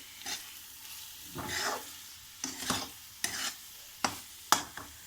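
Boiled soy chunks (meal maker) tip into a pan and cook, with a few quiet stirring scrapes and soft sizzles that come in short separate bursts against a fairly low background.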